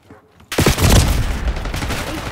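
Heavy gunfire bursts in during Black Ops 6 gameplay after a brief quiet moment, a loud, dense volley of shots and booms that keeps rattling on close by.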